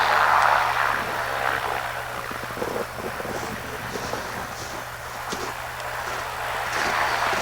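A small propeller aircraft lands on a runway near the North Pole, its engine a steady, moderately loud drone heard from inside the cabin, with wind noise over it.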